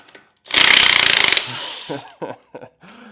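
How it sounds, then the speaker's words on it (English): Power impact wrench loosening tight bolts on a riding mower during Briggs oil seal replacement: a loud, close, rapid hammering burst of about one second, then a sustained whir, followed by short clanks and tool noises. "you really need a power wrench to make sure that sucker doesn't start spinning on you"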